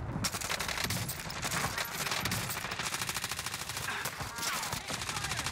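Sustained rapid automatic gunfire fills a Warzone battle royale match, dense bursts rattling continuously from start to finish with faint voices underneath.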